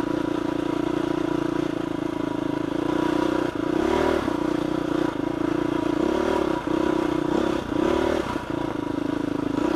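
Supermoto engine revs steadily as the rear tire spins on wet clay, a loud, constant motor drone with brief dips and surges, close and continuous, no talking.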